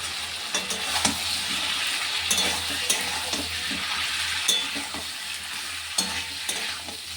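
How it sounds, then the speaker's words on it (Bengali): Pre-fried taro and potatoes go into a hot pan for a taro fish curry, hissing in steady oil sizzle while a spatula scrapes and stirs in repeated close strokes. "এতে এবার দিয়ে দেবো এই যে কচু আলু ভেজে রেখেছি।"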